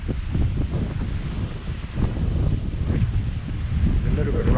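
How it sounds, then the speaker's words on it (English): Sea breeze while sailing under the jib alone at about five knots, a steady blustery rush of wind buffeting the microphone, mixed with the wash of water along the hull, continuous and fairly loud. "breeze is filled in, coming from the right direction"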